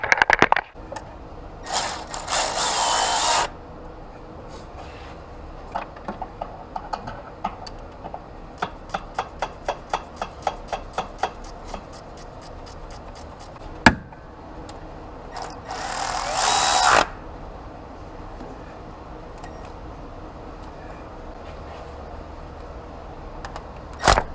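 A ratchet tightens bolts on the engine of a Nissan 300ZX Z31 during alternator and AC compressor work, with a run of quick, evenly spaced clicks amid quiet shop noise, plus a few louder clanks and brief whirring bursts.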